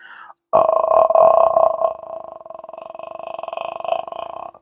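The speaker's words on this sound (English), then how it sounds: "you hear the sound when you hit your lowest notes with the vocal fry like this" A low, creaky vocal fry from a human voice, buzzing as a rapid train of pulses, first louder then softer, sustained for several seconds.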